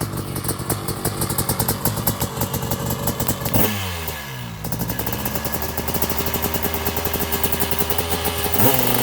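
A 1989 Honda CR500R big-bore two-stroke dirt bike engine rattles loud and close, drops off briefly, then settles back into a crisp, steady high-rpm drone with a final blip of revs.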